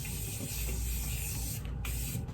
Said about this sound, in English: I'm going to use the Tarte Maracuja Miracle Mist Setting Spray.